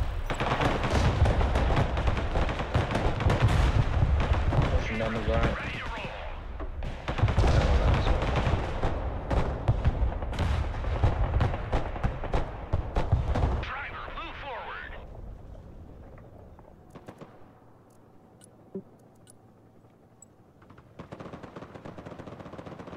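Artillery and gunfire in the war game Broken Arrow, a dense run of rapid bursts and blasts for the first half before thinning out to sparse distant hits, with players talking over the action.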